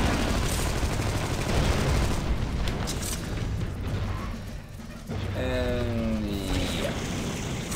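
Video game gunfire in Armed & Dangerous crackles amid dense, noisy battle sounds, with bursts and booms over a rough background and a brief voice near the end.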